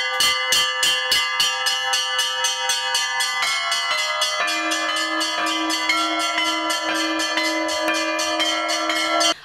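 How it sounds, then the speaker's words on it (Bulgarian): Church bells peal from the bell tower of St. Petka church in Plovdiv, Bulgaria, whose ten bells were cast at a family foundry; loud, close, continuous ringing of several tuned bells in a rapid, overlapping rhythm with no voices. "Това е камбанарията на църквата Света Петка в Пловдив"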